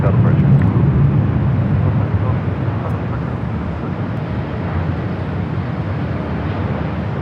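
Virgin Atlantic flight 141 from London Heathrow arriving at LAX, a continuous loud broadband jet roar that eases slightly over several seconds.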